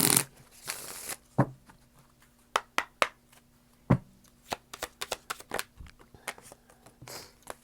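Tarot cards are handled and shuffled up close, with an opening riffle followed by irregular crisp slaps and flicks of card stock, quiet and spaced apart with no voices.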